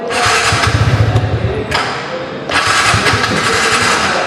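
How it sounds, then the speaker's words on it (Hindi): A small 125cc scooter engine low on petrol cranks and sputters through a self-start attempt, rhythmic thumping churn that stalls, then whirs again loudly up close. "तो चलिए एक बार स्कूटर स्टार्ट कर रहा हूं"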